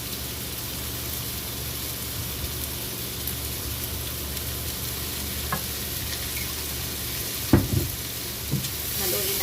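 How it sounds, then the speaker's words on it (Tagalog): Estofado stirred in a pot, a steady soft scraping and simmering sizzle running throughout, with a few louder clinks of the spoon against the pot near the end. "Haluin natin."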